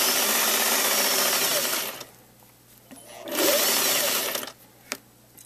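A sewing machine stitches a seam in knit fabric, running in a steady whirring burst, pausing, then running again briefly before a small click, with no talking.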